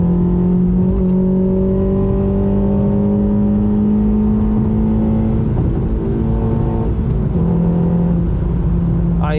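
A 9th-generation Honda Accord engine revving through its exhaust, a loud sustained drone that rises and falls in pitch across several throttle swells, heard close and alone without talk.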